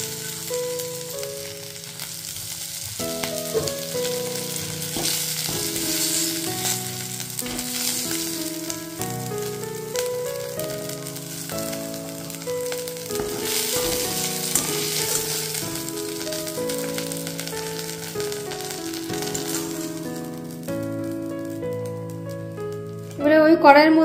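Ivy gourd (kundri) pieces fry in a pan with a continuous crackling sizzle, joined by occasional stirring, while a person talks over background music.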